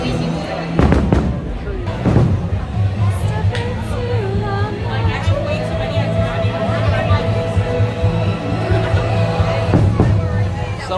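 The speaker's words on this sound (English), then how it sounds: "You can hear the fireworks going now." Fireworks bursting at Disneyland, a steady run of loud booms and crackles over a crowd murmur, with a person talking nearby throughout.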